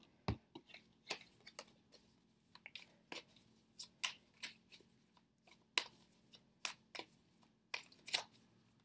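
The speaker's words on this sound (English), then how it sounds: "I'm going to pull a couple more cards out" A deck of tarot cards being shuffled and drawn, heard as a steady series of soft, close, crisp card slaps and flicks in an otherwise quiet room.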